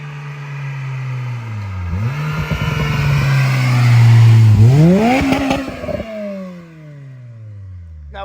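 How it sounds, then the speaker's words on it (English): Acura RSX with louder exhaust driving past, the engine note rising and falling as it approaches and pulls away, loud and close with a revving climb mid-pass. "I would give you guys a good flyby, but we are still in the braking period of the clutch, so maybe I'll just give you a little drive-by."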